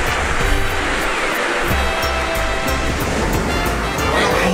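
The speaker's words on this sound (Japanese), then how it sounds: "うわー、すごい綺麗なビーチ。" Surf rolling onto a sandy beach in Okinawa in November, a steady broadband wash of breaking waves with some wind, fairly loud and continuous, with no voices over it.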